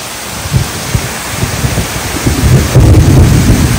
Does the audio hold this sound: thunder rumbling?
yes